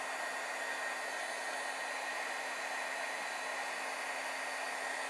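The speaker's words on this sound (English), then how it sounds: "It's just a lot quicker with a heat tool." Heat tool blowing hot air onto alcohol marker ink on paper, a steady close whooshing fan hiss with a faint whine, continuous and unchanging throughout, with no voices.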